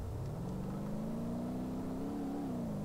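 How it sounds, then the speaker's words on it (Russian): A very powerful car engine in a BeamNG Drive drag race revs hard and climbs steadily in pitch, holding a loud, continuous drone from start to finish. "очень мощный двигатель и, ну, потенциально как бы должна жарить"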